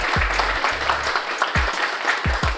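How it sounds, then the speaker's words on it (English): An audience claps at a chef conversation event, brisk applause interrupted by several heavy low thumps, like handling of a microphone, with a faint voice underneath. "Give them a round of applause real quick."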